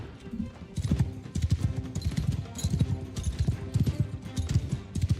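Horse hooves clip-clop in steady repeated beats in the video game Old Realms, a close rhythmic trot with an occasional whinny, over a busy background and faint talk.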